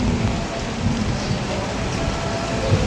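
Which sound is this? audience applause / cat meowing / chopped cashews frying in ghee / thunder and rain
thunder and rain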